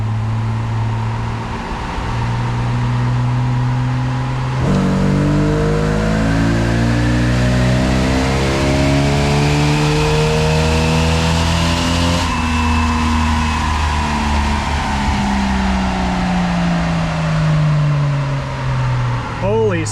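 Jeep Wrangler with the 4.0 engine accelerating up to speed on a test run, engine tone climbing steadily with rising harmonics and a gear change partway through, loud and close with steady whir throughout.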